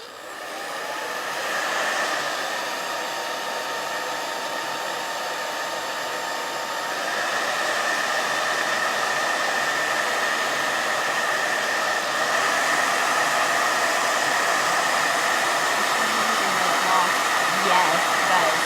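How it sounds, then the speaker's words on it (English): A hair dryer blows continuously at close range, a loud steady whirring hiss that grows slightly stronger partway through. "I'm gonna hit this with a blow dryer real quick"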